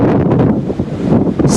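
Strong typhoon wind blowing along the Manila Bay waterfront in Manila during a storm with heavy rain and storm surge, a loud, continuous roaring buffet battering the microphone with low rumble.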